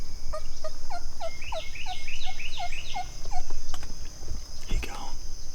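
An Osceola wild turkey gobbler gobbles in a rapid rolling burst of repeated notes at moderate distance outdoors, followed by a quieter call, with soft whispering nearby.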